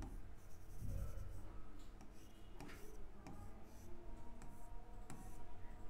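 Marker or chalk strokes scratch across a classroom board while a physics circuit problem is worked out, short tapping and scraping strokes in an irregular rhythm over a noisy room background.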